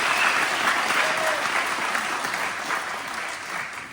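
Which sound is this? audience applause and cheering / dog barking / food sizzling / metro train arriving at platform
audience applause and cheering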